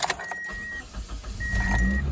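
A Toyota car engine cranks and catches, settling into a low idle rumble after a brief jingle of keys and faint electronic chimes.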